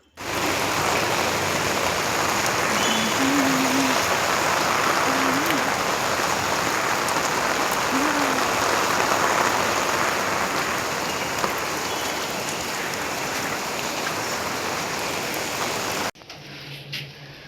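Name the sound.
heavy rain falling, water flowing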